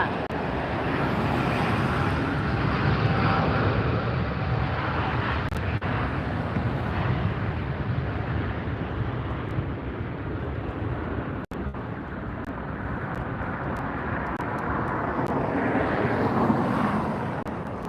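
A Boeing 787 Dreamliner jet at LAX airport gives a steady, broad roar that holds loud for the whole stretch, mixed with outdoor wind buffeting the microphone.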